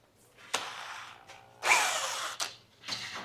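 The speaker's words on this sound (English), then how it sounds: "Now I'm going to drill those two holes out, and I should be able to mount my brake master cylinder." A power drill whines in short bursts while boring holes to mount a brake master cylinder on a 1966 Impala, with clunks and handling noises between the runs.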